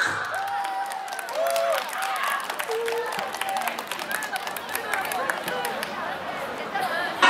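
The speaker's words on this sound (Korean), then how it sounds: "크게 박수 쳐주세요." A crowd at a basketball team's cheerleader show during a local festival claps and chatters in a steady, moderately loud wash of applause, with voices rising over it.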